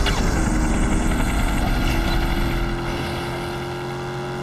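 A police helicopter chases the player in the video game Gangster Vegas, its rotor a loud, continuous throbbing roar with steady pulsing beats that eases slightly toward the end, with no talking.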